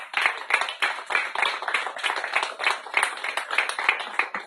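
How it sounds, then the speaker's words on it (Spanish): Congregation applauding during a church service, a dense, steady clatter of many hands that holds for several seconds at an even loudness, with no clear talk over it. "Un aplauso al Señor."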